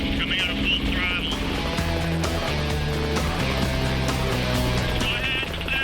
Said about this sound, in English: Okay, helicopters at speed.